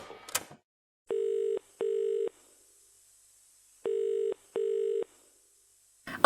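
An outgoing WhatsApp call rings with four steady tone bursts in two pairs, separated by silence, heard clearly and alone with no talk.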